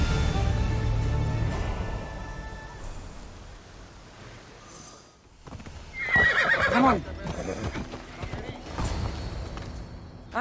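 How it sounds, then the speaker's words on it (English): In Assassin's Creed Odyssey, a horse's hooves clip-clop close by, then a loud neigh rises and trails off, with game characters talking over parts of it. "I thought Adonis could make good use of this horse"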